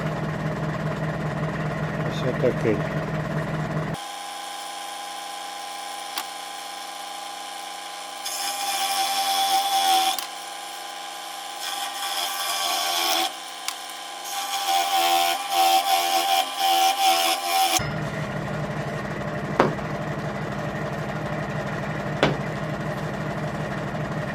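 A sanding machine shapes a wooden hair comb, its steady motor whine running loud and continuous, with the pitch and grinding texture shifting as the wood presses against it.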